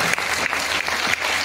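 Loud, steady applause from a concert audience at a musical tribute night, dense clapping with no break for the whole short stretch.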